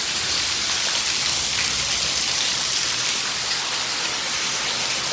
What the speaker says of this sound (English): This is our waterfall in the house.